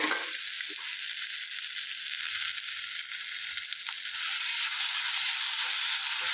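Chilies frying in hot oil in a home kitchen, a steady loud sizzle and hiss running unbroken from start to finish with no voices.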